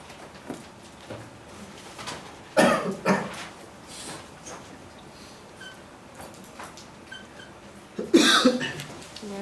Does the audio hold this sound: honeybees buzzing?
no